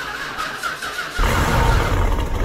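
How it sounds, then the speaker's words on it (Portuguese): A car engine starting in the Minecraft video game, with a quiet idle followed by an abrupt, loud rumbling roar that holds steady. "se liga no ronco desse carro, velho. Deixa eu ligar ele aqui."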